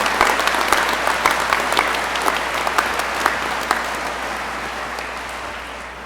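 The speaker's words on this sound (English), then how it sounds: "Let's get a round of applause for the TAC officers of MHP Cadet Class number 63." A large crowd at the Mississippi Highway Patrol Cadet Class 63 graduation applauds the TAC officers, steady dense clapping that gradually fades.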